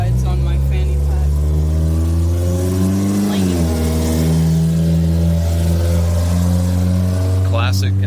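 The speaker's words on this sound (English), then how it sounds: "every car just sounds like a piece of shit" A loud car without a muffler on a road in Kentucky roars steadily, its engine revving up and down in a deep throaty drone close by, with people talking over it.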